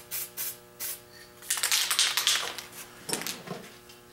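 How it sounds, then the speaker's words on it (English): Spray paint can hissing onto mirrors in short bursts, a couple of faint puffs first and then a longer, louder spray, close by with no talking. "Give it a spray, see what it does."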